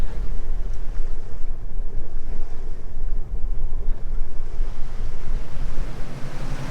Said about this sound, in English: We're just going through those overfalls